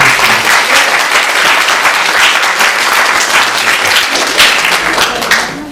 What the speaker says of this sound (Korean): 여러분께서 다시 한번 그것도 박수로 축하드립니다.